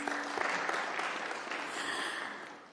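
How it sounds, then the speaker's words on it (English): Audience applause at the Casual Day 30th celebration and launch event, a warm, steady burst of many hands clapping in a hall, moderately distant and fading slightly toward the end. "Please give yourselves a warm round of applause."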